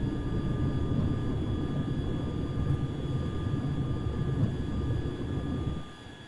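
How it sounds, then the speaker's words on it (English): A video-game airplane engine in Tiny Combat Arena throttles up for takeoff, a loud, steady droning roar with thin whining tones that fades off at the very end. "I'm going to try doing a regular takeoff here. So I'm going to throttle up."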